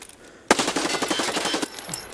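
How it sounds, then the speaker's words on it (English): Burst fire from a gun in Escape from Tarkov: a sudden loud onset, then a quick rattling string of about ten close shots lasting just over a second before fading. "Just practice our burst fire before we leave the raid"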